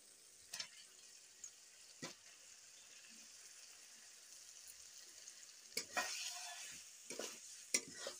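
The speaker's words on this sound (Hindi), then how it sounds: "तो मसाले को मैं 4 मिनट तक फ्राई कर ली हूँ, देखिए तेल छोड़ने लगा है।" Quiet sizzling of spice paste frying in oil for a potato curry, broken by a few sharp scrapes and clinks of a spoon stirring in the pan.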